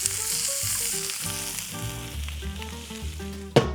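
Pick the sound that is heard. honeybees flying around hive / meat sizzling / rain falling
meat sizzling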